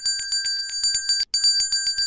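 A bright metallic bell rings in a fast, even run of repeated strikes, close and loud, with one brief break partway through before the ringing resumes.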